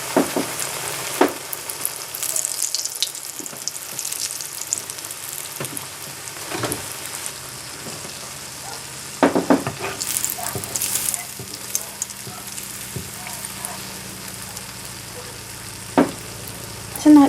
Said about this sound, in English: As you can see, I've been letting the grease get hot. I'm going straight in.